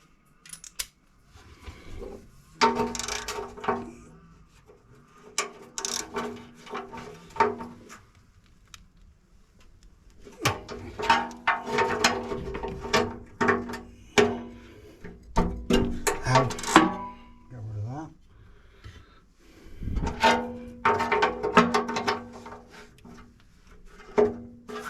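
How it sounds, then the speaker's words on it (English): Ratchet wrench clicking in repeated bursts while new Hunter brake bricks are fitted, close-up and fairly loud, separated by short pauses and handling noises. "ratchet first."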